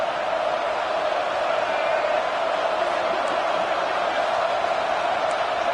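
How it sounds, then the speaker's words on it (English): A football stadium crowd roars loudly, a dense, unbroken wall of noise that holds steady and close for the whole stretch. "And with this place rocking, the crowd forces a false start."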